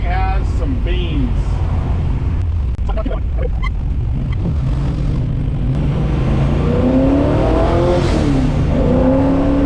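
A 670 HP small-block 1964 Buick Special accelerates hard in gear, heard from inside the car as a loud, steady engine roar that climbs in pitch with the revs and stays dense throughout.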